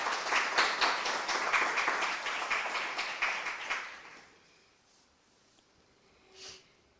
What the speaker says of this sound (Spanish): recibimos con un fuerte aplauso entonces a la doctora